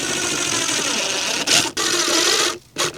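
Short bursts of a power drill driving 1-inch screws into a dryer vent cap, a steady whir broken by two brief louder grinding spurts near the end.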